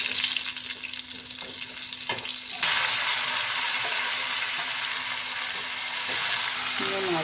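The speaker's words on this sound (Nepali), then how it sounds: "अब म साग बनाउँछु प्याज चाहिँ म लसुन पनि हाल्छु डल्ले खोर्सानी पनि हाल्छु" Greens frying in a pan with onion, garlic and chili, a steady loud sizzle that jumps up partway through as more goes into the pan, with stirring scrapes throughout.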